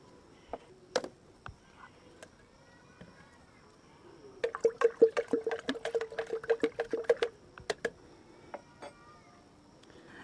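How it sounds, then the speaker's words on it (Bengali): Half a spoon of Agromin Max fertilizer stirred into one litre of water, giving a burst of quick clinking, dripping strokes in the middle with scattered soft taps before and after, close and fairly quiet. "এই 1/2 চামচ মতো নিয়েছি, নিয়ে 1 লিটার জলে কিন্তু মিশিয়ে দিলাম"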